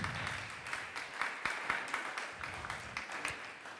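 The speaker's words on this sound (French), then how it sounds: "Je voudrais qu'on applaudisse celles et ceux qui ont rendu ce colloque possible." A colloquium audience applauds the organizers with a soft, distant patter of clapping that carries on steadily throughout, faint and without voices.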